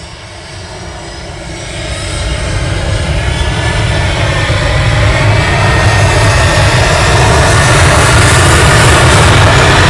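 A KLM airliner at Manchester Airport, its jet engine roar building after the first couple of seconds and then holding loud and steady, close by, with no voices.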